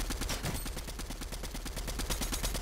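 Rapid automatic assault rifle fire in Fortnite, a steady stream of evenly spaced shots running loud and continuous for the whole stretch with no talk over it.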